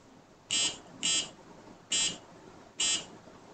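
A micro:bit buzzer plays programmed music as four short, loud electronic tones in an uneven rhythm, each about a quarter second long, over a quiet room background.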